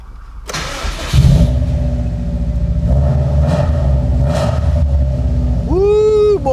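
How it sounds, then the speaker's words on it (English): A car with a newly upgraded transmission cranks and fires up. There is a whine, then a loud rumbling idle with a few revs, and a rising-and-falling squeal near the end. "See if the car even starts."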